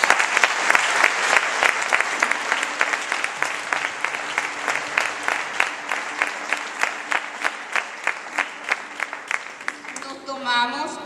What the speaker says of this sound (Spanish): Podemos volver a aplaudir al Señor.